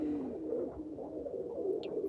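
Pigeons coo softly and continuously inside a dovecote tower in the video game TKKG 17, a low murmuring drone with a brief higher chirp near the end.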